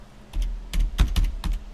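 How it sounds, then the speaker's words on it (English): Fingers tap on a computer keyboard in a quick, uneven burst of about eight close, crisp keystrokes, clustered in small groups with no talking. "So if I type in grocery, let's see what's come up."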